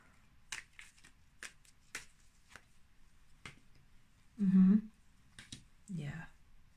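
A deck of cards is shuffled for a tarot-style reading, giving soft, quick riffles and taps in scattered short bursts, close by and fairly quiet, with voices murmuring in between.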